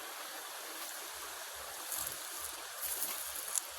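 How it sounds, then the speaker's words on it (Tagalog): A mountain stream flows steadily at a close distance, forming a continuous soft watery rush with faint trickling detail and no talk over it. "Yan, sapa."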